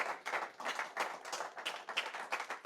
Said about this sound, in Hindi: आओ फिर मां के लिए जोरदार ताली बजाएं।